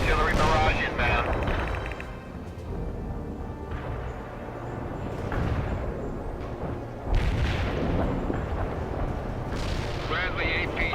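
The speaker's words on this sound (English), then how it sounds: "Heavy artillery barrage inbound." Heavy artillery barrage in the war video game World in Conflict: several deep, rumbling booms and blasts roll through a dense battle din, with game radio voices talking over it.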